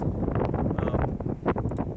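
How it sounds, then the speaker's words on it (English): Wind buffets the microphone outdoors at a shooting range in a constant low roar with gusty rumbling throughout. "A little windy out here today, I apologize."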